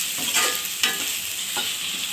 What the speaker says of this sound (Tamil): பாருங்கள், இப்போ நமக்கு எல்லாமே நல்லா வதங்கி வந்துருச்சு.